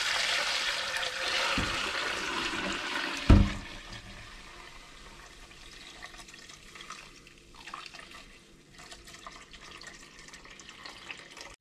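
Homemade kvass, a bread-based drink, is poured through a small strainer, a steady liquid splash that fades into softer trickles and drips after a sharp clunk.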